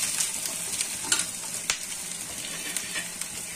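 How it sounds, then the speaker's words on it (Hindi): Garlic cloves frying lightly in oil crackle softly and steadily at close range, dotted with small pops and a few faint utensil taps, no speech. "इनको लाइट ब्राउन, बिल्कुल लाइट ब्राउन, बिल्कुल हल्का सा हमने इसको फ्राई करना"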